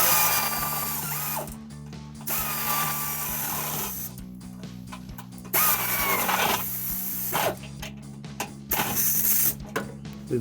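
Ratchet fitted with a 13 mm socket tightening the exhaust isolator on a Jeep Gladiator, giving dense clicking ratchet runs broken by short pauses, loud and close, with no talking.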